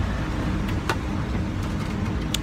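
A car on the road, heard from inside while driving: a steady low engine and road rumble runs throughout, with a few faint clicks or knocks on top.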